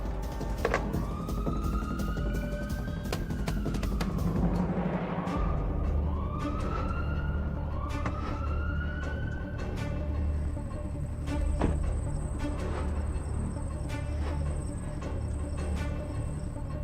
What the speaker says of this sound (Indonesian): Kami kirim ambulans sekarang ya.